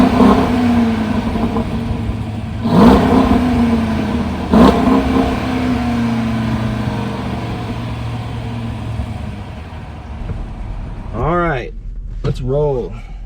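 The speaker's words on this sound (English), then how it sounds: "it has the Hemi V8 rumble." A Hemi V8 in a performance family car rumbles at idle, then revs sharply twice in quick bursts before settling back to a deep steady burble, loud and close, with a couple of brief swooping tones near the end.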